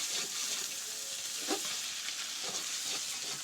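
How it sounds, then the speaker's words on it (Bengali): Banana flower fries in oil in a pan, giving a steady, soft sizzle with a few faint scraping stirs, close but quiet. "এখন আমার মুসা ভাজি হয়ে আসছে বন্ধুরা, দেখেন লাল লাল করে কি সুন্দর করে ভাজি নিচ্ছি"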